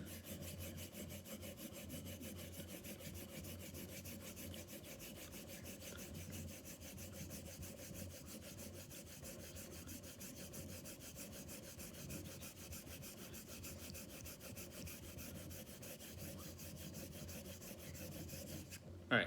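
Honing strokes of a German travel razor setting its bevel on a stone, a steady continuous rasping rub with no pause, moderately quiet and close, ending in a brief knock.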